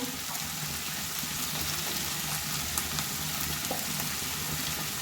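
Vegetables sizzle and crackle in hot oil as they are stirred, a steady close frying hiss with faint scraping, no voices.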